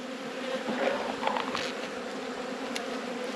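A steady, close hum of honey bees crawling on hive frames during a beekeeping inspection, continuous and even throughout with no talking.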